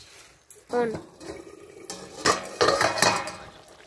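Metal clatter of a lid set onto a pan holding fried eggs in curry, a few sharp knocks and scrapes with brief ringing, close and fairly loud, with kitchen clinks around it.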